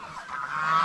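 Farm geese honking close by, a short loud nasal call rising and holding, alone without talk.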